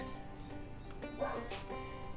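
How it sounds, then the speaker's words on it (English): A dog gives a couple of short yipping barks close by in a garage while rear-end grease work goes on under a 1989 Ford F-150 pickup, with a voice heard along with the barks. "That was a big bark."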